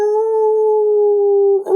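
A single voice imitates an eerie howl for a storybook reading: one long, steady, sustained note held for well over a second that breaks off abruptly at the end.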